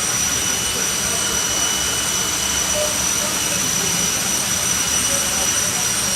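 A jet-powered dragster at the Santa Pod drag strip during the FIA European Finals emits a steady, loud turbine roar and hiss that holds continuously throughout, with no break in the sound.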